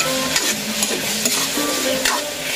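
Pork adobo sizzling in a pan while being stirred, with steady frying crackle and a few soft scrapes of the spoon against the pan, close and fairly loud, no talk.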